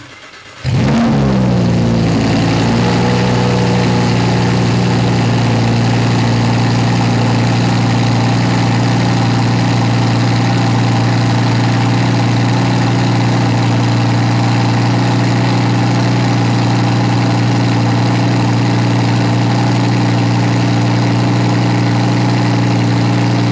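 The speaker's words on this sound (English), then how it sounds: "let's take a moment and listen to the exhaust of this car in Corsa mode" A 2020 Lamborghini Huracan EVO V10 fires up in Corsa mode with a sharp start, then settles into a loud, steady, deep exhaust idle that rumbles on close by for over twenty seconds.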